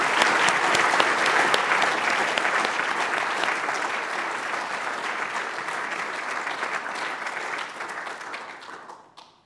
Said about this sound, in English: Please join me in celebrating and applauding those whose accolades we're celebrating today.